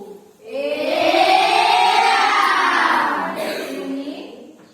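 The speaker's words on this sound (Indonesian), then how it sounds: "Kita beri tepuk jos dulu." A school class gives a group cheer, many young voices shouting together in unison for a few seconds, loud and close in a classroom.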